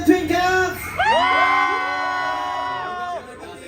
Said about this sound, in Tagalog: Isang sigaw nga dyan, twinkles!